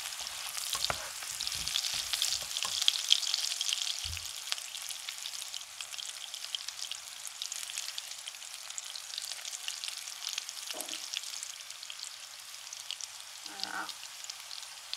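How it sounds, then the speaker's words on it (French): Carrots caramelizing with honey and salt sizzle steadily in a pan, a dense, even frying hiss with a few soft taps and stirring scrapes scattered throughout. "on a nos carottes qui caramélisent"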